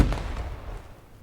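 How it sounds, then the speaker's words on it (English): A single firework bursts loudly up close, its crisp bang fading into a short crackling tail. "Now you see, them definitely fireworks right there."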